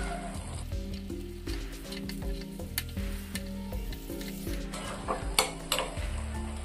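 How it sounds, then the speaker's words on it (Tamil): Fish masala sizzling and frying steadily in a pan, with scattered clicks and scrapes as the pieces are turned over; close and continuous with no talking. "குறைச்சி வச்சுட்டு இந்த மாதிரி திருப்பி திருப்பி விடணும்"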